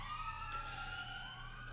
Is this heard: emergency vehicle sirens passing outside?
yes